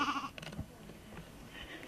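Goats bleating on the open Mongolian steppe near yurts, a couple of short wavering calls at moderate distance over a faint outdoor background.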